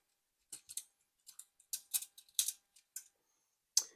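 Plastic parts of a Masterpiece Transformers toy clicking as its wheels are folded out, a quick series of sharp ratcheting snaps spaced unevenly over a few seconds, close and clear against silence.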